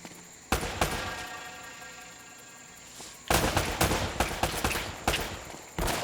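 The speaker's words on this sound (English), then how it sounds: "I feel like I'm in a gunfight because of the sweet gunshot." Video game gunfire from Uncharted: Drake's Fortune, sharp loud shots in a quick burst, a pause, then a rapid ragged volley of several more, close and punchy, with no voices over them.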